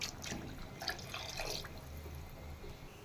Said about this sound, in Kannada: ಈಗ ಇದಕ್ಕೆ ನೀರು ಸೇರಿಸ್ತಾ ಇದ್ದೀನಿ